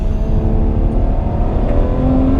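A Ferrari 812 Superfast V12 with a twin-clutch gearbox roars loudly and continuously at high revs, a dense, close engine drone with no talking.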